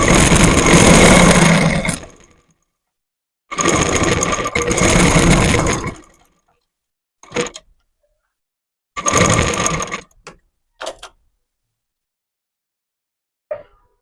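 A sewing machine stitches a fabric pillow cover in bursts. Two long runs are followed by shorter whirring stints and single quick taps, with silent pauses between them, heard close and clear.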